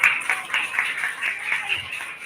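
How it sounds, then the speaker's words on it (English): A small group claps for Pranav at a pride event, a brief patter of light, fairly quiet hand claps spread evenly with no talking over them. "Can we have a round of applause for Pranav?"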